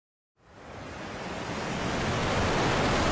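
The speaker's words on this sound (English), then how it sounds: "The waves." Ocean waves at a shoreline rise from silence into a steady broadband wash of surf that slowly builds and holds, dense and loud with no voices.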